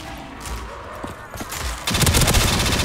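Rapid bursts of MB5A gunfire in Call of Duty Black Ops 3 zombies. A few scattered shots come first, then a dense, loud volley fills the final second.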